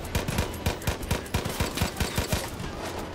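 Single-fire gunshots in Far Cry 5, a steady run of a dozen or so sharp, punchy cracks at a quick, even rhythm, loud and close with no talking.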